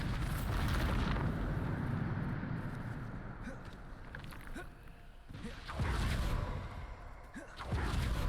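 Bombarda blasting spells detonate in Hogwarts Legacy: loud, rumbling explosive bursts hit near the start and again around the middle and end, each with a heavy low boom and a trailing roar.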